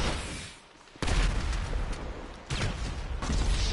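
Homing launcher fired in a video game, heavy booming blasts in a few separate bursts with a crackling rumble between them, loud and close with no talk.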